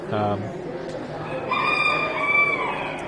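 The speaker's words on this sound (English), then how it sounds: "Asiatic class Rooster is our first here" An Asiatic class rooster crows at a county fair poultry show, a drawn-out crow rising over a busy hall murmur, with other birds and voices in the background.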